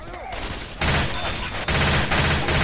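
Sustained automatic gunfire from Left 4 Dead 2 rattles loud and close in dense bursts, pausing briefly before several more volleys, with a voice faintly underneath.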